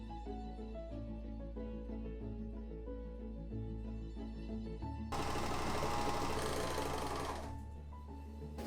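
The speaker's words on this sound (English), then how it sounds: "now I'm gonna overlock so it's a really narrow and clean seam" An overlocker stitching a narrow seam on fabric, starting with a soft rapid mechanical whir and then switching to a loud, fast, continuous buzzing run for a few seconds before slowing and stopping, close by.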